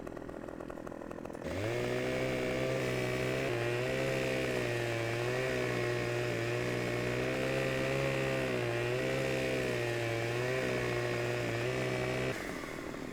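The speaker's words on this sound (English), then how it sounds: "So we're going to have you take your chainsaw out, and I will cut down the first tree." A video-game chainsaw in Farming Simulator 15 roars loud and steady while cutting down a tree, starting abruptly after a quiet moment and holding a constant revving drone for about ten seconds before cutting off.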